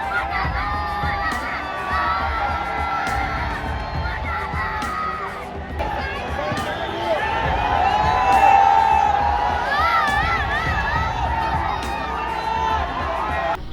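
A large crowd of young fans gathers around Bigg Boss 17 winner Munawar Faruqui, cheering and shouting continuously, with the noise swelling in the middle and whistles and shrieks rising over the din.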